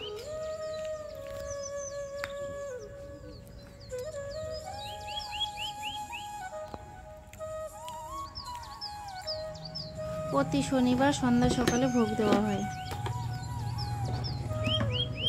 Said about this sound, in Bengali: খুব চেঁচামেচি করে কাক আর পাখি।